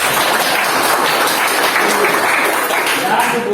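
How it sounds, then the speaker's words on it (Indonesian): Students clap together in a class, a steady, dense wash of applause that lasts the whole time at close, full volume. "tepuk tangan."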